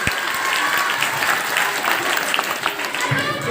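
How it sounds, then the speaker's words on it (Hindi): At a school farewell ceremony, the audience breaks into loud, continuous applause, a dense wash of many hands clapping close by that holds evenly for a few seconds. "तालियों में जोड़ दें"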